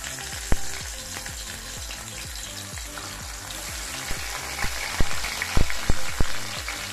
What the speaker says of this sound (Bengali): এবারে আমি একে একে ইলিশ মাছগুলোকে ভেজে নেব।